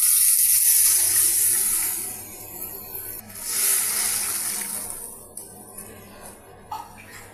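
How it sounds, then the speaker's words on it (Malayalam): Water hisses and sizzles as it is poured into a hot pan of fish curry masala for Kerala-style fish curry, loud at first and then settling into a softer simmering hiss with small clinks. "മീൻ വേവാൻ ആവശ്യമുള്ള വെള്ളം ഒഴിച്ചു കൊടുക്കാം"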